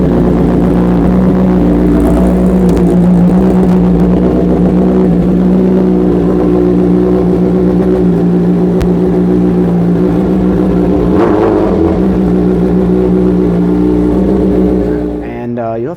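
BMW M1000RR superbike engine running with a new air filter, a loud, steady, close mechanical drone that holds for several seconds with a slight rise partway through, then cuts off at the end.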